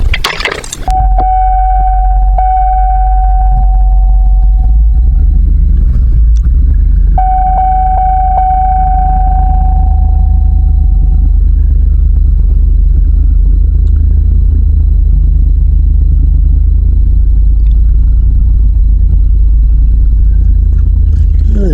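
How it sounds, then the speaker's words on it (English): Logging truck engine straining to pull a log with a choker chain, a loud steady low rumble throughout, with two long tonal beeping alarms early on and occasional clanks. "The truck's moving"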